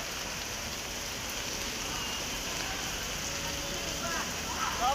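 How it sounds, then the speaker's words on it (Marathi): Steady rain falls on an outdoor cricket match, heard from under a tree, a constant soft hiss with light pattering throughout, fairly close and even in level. "इथं पावसामध्ये मॅच खेळतायत"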